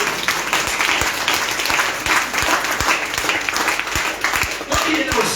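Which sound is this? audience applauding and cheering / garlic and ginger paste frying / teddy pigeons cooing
audience applauding and cheering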